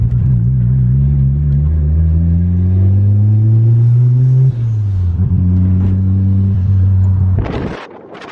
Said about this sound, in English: It just sounds fast because all the rotary engine noise and turbo